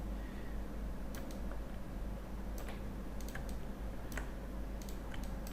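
A computer keyboard clicks in quick, sparse keystrokes, as in pressing a Control D shortcut, faint and close against a low steady hum, with no talking.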